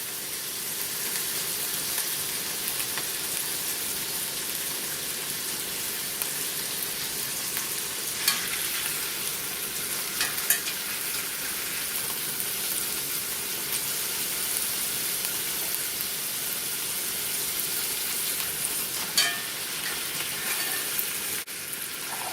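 Garlic pork and potatoes sear in a skillet with a continuous, even sizzle and a few brief clicks or scrapes, moderately close and with no voices.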